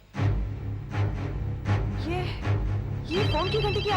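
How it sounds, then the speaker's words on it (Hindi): Telephone bell in a horror show ringing in rapid repeated bursts, fairly loud, with voices speaking over it and a rising electronic tone toward the end. "ये फोन की घंटी की आवाज कहां से आ रही है?"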